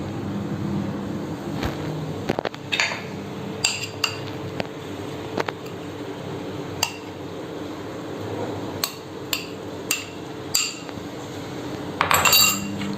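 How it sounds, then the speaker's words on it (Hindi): Pasta goes into a pan of white sauce and is stirred, heard as scattered metallic clinks and scrapes of a utensil against the pan over a low steady background hum, with no talking. "अब मैं इसमें पास्ता ऐड करूँगी।"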